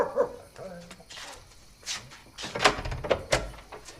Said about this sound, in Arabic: مالك ما سكتيش الكلب؟